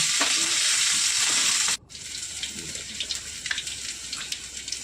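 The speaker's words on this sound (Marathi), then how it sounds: "आता आतमध्ये टाकूया लसूण. सगळं छान अगदी भाजून घेऊया परतून." Garlic, cumin and mustard seeds fry in hot oil with a loud, dense sizzle. It cuts off abruptly, then returns quieter with scattered pops and crackles, and no one speaks.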